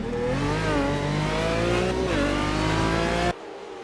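Aston Martin GT1 race car at Laguna Seca climbing into the corkscrew on cold tyres, its engine a loud, steady roar with rising pitch that cuts off abruptly near the end.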